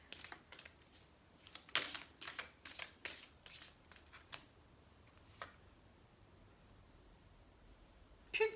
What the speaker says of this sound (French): On va tirer une dernière carte sur la loi.